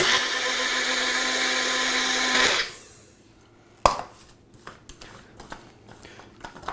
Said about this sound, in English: put this in a magic bullet like blender